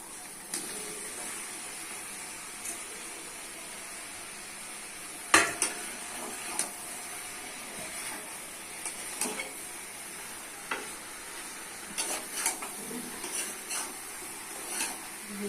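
Cucumber and potato are stirred in a cooking pan, a soft sizzle under sporadic scrapes and clinks of a utensil against the pan, quiet and close.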